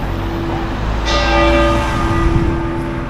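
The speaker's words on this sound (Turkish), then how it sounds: "Evet çan öttü." A church bell in a town hall square in Alicante, Spain, rings out with a sustained, resonant tone, a single strike that hums on over low background noise.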